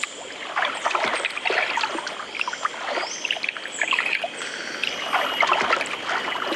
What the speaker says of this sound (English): Letta shows Timpa how to scoop water.